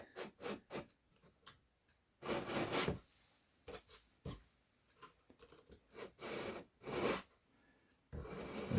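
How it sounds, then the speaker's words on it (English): Rhythmic rasping strokes of a metal file removing material from a wooden model aircraft kit part, a dozen or so short passes with pauses, close and moderately loud. "to remove this material with a file"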